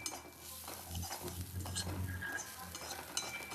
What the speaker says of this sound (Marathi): कांदा थोडासा कच्चा होईपर्यंत, काळा काळा होईपर्यंत परतवायचा